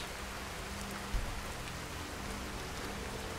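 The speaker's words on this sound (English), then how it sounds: "Looks like the rain is going away." Steady rain hiss in the video game Skyrim, a continuous even wash of falling drops with one brief low thump partway through, moderately loud with no voices.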